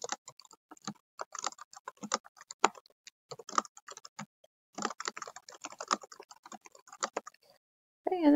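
Rapid, uneven keystrokes on a computer keyboard come in close, clicky bursts with short pauses between them, while someone types out an email message; a brief louder sound cuts in at the very end.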